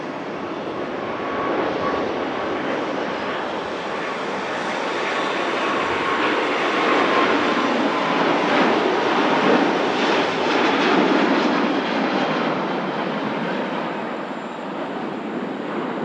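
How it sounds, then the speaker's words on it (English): A Singapore Airlines Airbus A350 departs Manchester Airport with a loud, sustained jet engine roar that swells to a peak midway and then slowly fades, with no talking. "Super departure there. Singapore A350."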